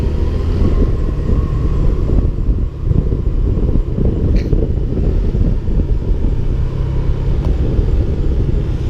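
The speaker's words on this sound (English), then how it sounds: "I'm on a motorcycle, he can't keep up." Steady motorcycle engine drone and road rumble with wind buffeting the microphone, continuous and loud throughout, no talking, on the Samoeng Loop in Thailand.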